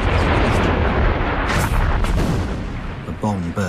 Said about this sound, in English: The bomb burst.